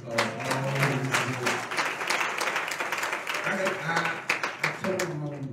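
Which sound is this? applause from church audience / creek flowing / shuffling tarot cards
applause from church audience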